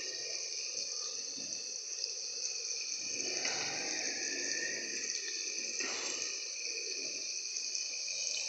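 Steady running water pours into a pan of potatoes and eggplant, a continuous hissing stream with a couple of louder splashing surges, no voices.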